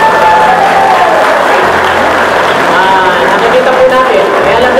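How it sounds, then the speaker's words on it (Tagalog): An audience at a religious debate between Iglesia ni Cristo and Seventh-day Adventist members claps in a loud, steady wash, and crowd voices and cheering mingle throughout. "Pwede po ba pumalakpak kayo tayo?"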